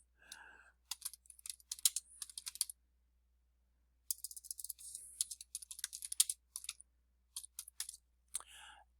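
Someone types a title on a computer keyboard, producing quick bursts of close, crisp key clicks separated by short pauses, quiet and alone with no voices.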